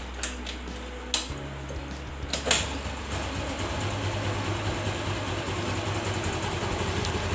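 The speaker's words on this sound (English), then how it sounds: "Let's start the engine." A warm TVS Jupiter scooter engine starts with a few sharp clicks and a brief crank, then settles into a steady, close, low idle that continues evenly to the end.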